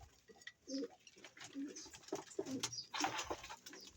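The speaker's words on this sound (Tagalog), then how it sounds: "Itong ibon namin si Legit." Domestic pigeons coo repeatedly at close range in a backyard loft, soft rounded calls rising and falling in a loose rhythm amid faint rustling, with no talk over them.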